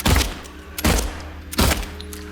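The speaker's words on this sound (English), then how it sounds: "Alright, it's gun time." Gunfire in the Silent Hill 2 Remake video game: three loud, sharp gunshots spaced evenly about three-quarters of a second apart, each with a short booming tail, heard alone without talk.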